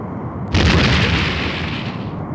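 A torpedo strike explodes in the DOS space game Star Trek: A Final Unity, a sudden loud boom that rolls into a sustained rumbling blast and slowly fades, with no talking.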